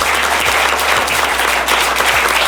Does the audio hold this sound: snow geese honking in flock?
no